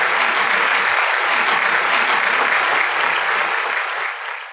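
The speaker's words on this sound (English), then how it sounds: "With a big, big round of applause, let's welcome Mr. Vinod Subramanianji." A large audience at a conference applauds to welcome a speaker, sustained full clapping across the hall that holds strong before fading at the end.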